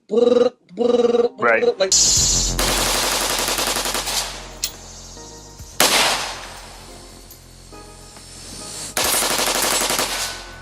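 A rifle fitted with a bump stock fires in rapid, loud bursts, with short clipped shots at first and then long sustained strings of fire separated by brief pauses, close and forceful.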